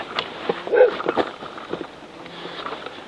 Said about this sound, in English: we have the neighborhood pooch who likes to bark at everybody at the boat ramp